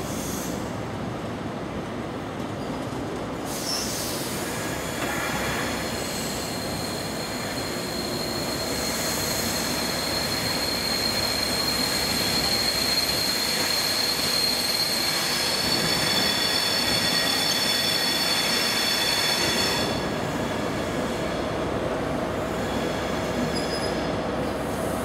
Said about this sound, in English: there's a coal train just leaving away over there